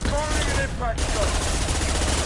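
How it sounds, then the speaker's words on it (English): Dense, continuous game gunfire from an impact shot and squad weapons in Mass Effect 2 on Insanity difficulty, loud and steady throughout with brief tonal weapon sounds layered in, no clear pauses. "Firing an impact shot."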